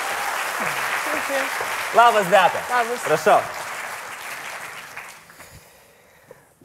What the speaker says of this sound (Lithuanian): Plojimais pasitikim